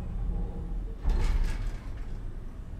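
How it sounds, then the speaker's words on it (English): An infirmary door in the horror game SOMA slides open with a short mechanical whoosh and rumble, close and moderately loud, over low ambient hum. "I got the infirmary door open."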